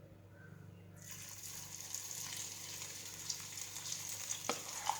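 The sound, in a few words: okra with masala frying in hot oil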